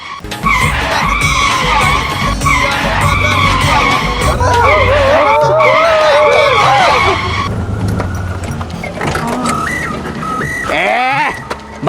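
A car pulls up and skids loudly with sustained tire squeal close by, the pitch wavering over several seconds before settling into engine noise and a final short screech.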